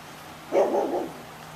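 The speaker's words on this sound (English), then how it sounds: "We also have the neighborhood dog barking at the fence." A neighborhood dog barks at a fence during dog obedience training: one short muffled bark burst, moderately distant, in a quiet outdoor setting.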